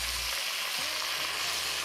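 Onions fry in a pan, a steady close sizzle with a faint scrape or two of stirring, no talking.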